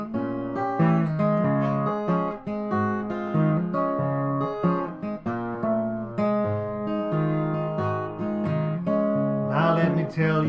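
A blues guitar plays a passage alone, steady and fairly loud, with busy picked notes, bass movement and a brighter strummed flourish near the end.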